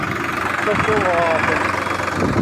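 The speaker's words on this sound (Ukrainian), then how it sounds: "Ну що, трактор то справляється." A tractor engine runs steadily during spring sowing, a loud, constant mid-pitched drone with a brief human voice over it.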